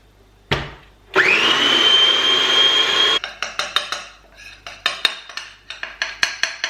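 A food processor whirs loudly for about two seconds, blending vegan dessert ingredients for a Christmas treat. It then stops, and a run of quick, sharp clinks and taps follows, like a utensil knocking against the bowl.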